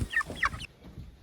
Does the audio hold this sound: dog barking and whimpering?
no